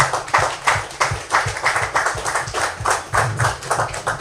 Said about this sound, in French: vous devez vous applaudir pour vous-même